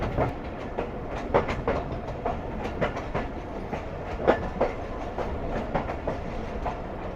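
A passenger train on the Larkana to Kotri route in Pakistan runs along the track at moderate speed, its wheels giving a steady rhythmic clickety-clack over a continuous rumble, close and loud.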